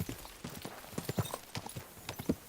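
Hooves of a horse in the video game Kingdom Come: Deliverance II clopping at a slow, uneven walk, soft thuds repeating at close range with no talk over them.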